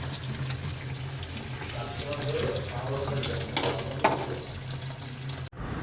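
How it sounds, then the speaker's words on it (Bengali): Tap water runs steadily into a sink while prawns and small shing fish are rinsed, a continuous close splashing wash with faint handling noises and a brief bump near the end. "আমি একটু ধুয়ে নিচ্ছি। চিংড়ি মাছ, আর আছে অল্প শিং মাছ।"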